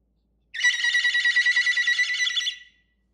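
A telephone rings with a bright trilling bell tone, one unbroken burst of about two seconds that rattles rapidly, loud and close in an otherwise silent room.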